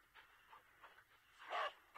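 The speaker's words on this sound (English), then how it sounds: "Dude, that dog's awesome" A dog panting in the Into The Dead zombie video game, a few soft rhythmic breaths followed by louder, sharper huffs at the end, fairly faint overall.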